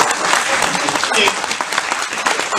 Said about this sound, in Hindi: ताली तो बजा दो यार।